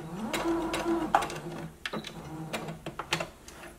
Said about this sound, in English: back stitch, sew forward, and back stitch one more time